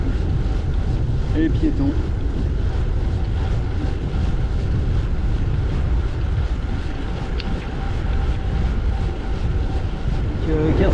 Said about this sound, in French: j'ai le vent de face depuis 2 heures